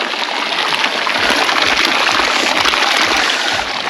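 Hot spring water pours down a steaming waterfall in Nubra Valley, Ladakh. It is a loud, constant broadband rush of falling, splashing water, close by, with no voices.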